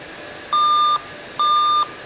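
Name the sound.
Dell laptop diagnostic beep code for a failed hard drive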